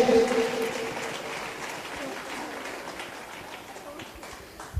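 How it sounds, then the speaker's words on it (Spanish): A church congregation applauds during a Catholic sermon, giving a steady, moderately loud wash of clapping and crowd noise that fades slightly, with a voice heard briefly at the start. "Se aplaude a Dios, hombre."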